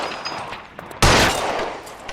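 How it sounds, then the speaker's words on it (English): A single loud, close gunshot in L.A. Noire rings out midway and then decays, following a quieter stretch of faint background sound. "He's shooting it."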